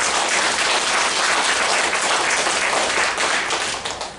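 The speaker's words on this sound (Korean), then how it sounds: "참 어머님을 위해서 박수 한번 보내겠습니다" An audience at a religious gathering gives sustained, dense applause from many people, loud and even, tapering off slightly at the end with no speech over it.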